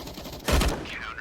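Gunfire sprays in a Counter-Strike match on Mirage: a short, dense burst of shots stands out briefly under excited commentator speech.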